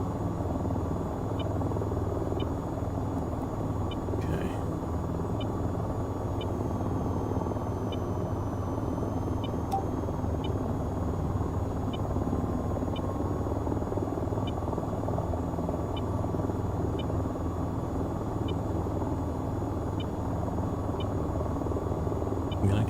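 Attack helicopter in the VTOL VR game flying over desert, a continuous low rotor rumble and drone with regular faint ticking, steady and close throughout.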